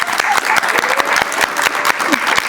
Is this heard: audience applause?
yes